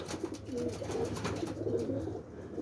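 Pigeons in a loft coo softly at close range in low, rolling calls that repeat several times over a steady background hum.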